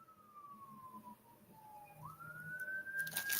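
A siren wails faintly in the distance, its pitch sliding down and then climbing again, over a low background rumble.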